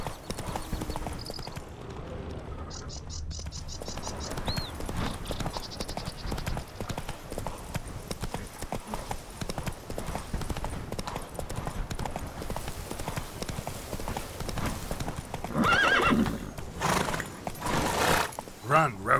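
Horse hooves galloping in The Witcher 3: Wild Hunt, a steady fast clip-clop running under continuous talk and game ambience, with a brief whinny-like cry early on.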